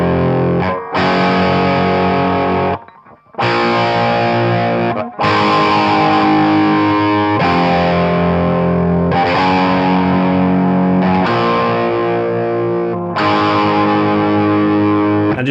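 Distorted electric guitar power chords played on the bridge pickup in a rock style, loud and continuous with short gaps between chord phrases and ringing sustained chords.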